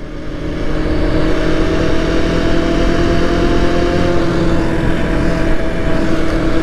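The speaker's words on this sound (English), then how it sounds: "50cc scooters can't go up hills!" A 50cc scooter engine drones steadily and loudly while straining uphill, a strained, buzzing hum that holds at a high pitch throughout with constant wind rush.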